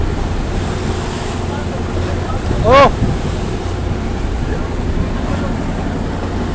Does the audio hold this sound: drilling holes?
no